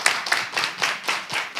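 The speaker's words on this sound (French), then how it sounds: "Applaudissez pour lui, pour moi aussi." A small studio audience claps for a volunteer on a French talk show, the clapping coming in short uneven bursts that quickly fade, with no talk over it.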